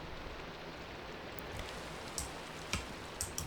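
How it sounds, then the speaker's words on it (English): Rain falls in the Minecraft video game, heard from a cave through a small opening as a steady, soft hiss with a few faint ticking drops. "We can hear some rain from this little opening, and there's rain falling"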